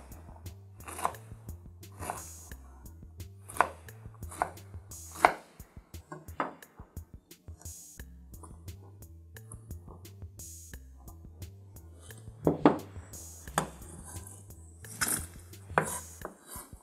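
A knife chops food into cubes on a cutting board in irregular bursts of sharp taps, with brief pauses between runs, close and clear.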